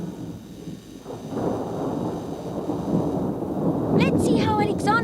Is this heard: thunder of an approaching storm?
yes